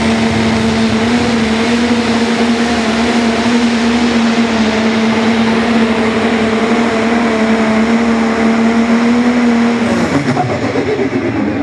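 A pro stock pulling tractor, a red billet Binder, roars at a sustained high, steady pitch at a tractor pull, loud and unbroken, then its engine note drops off sharply near the end.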